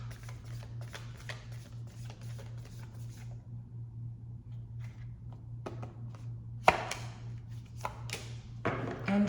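Tarot cards being shuffled and drawn, soft riffling patters and brisk flicks close by, with a few sharper slaps near the end over a steady low electrical hum.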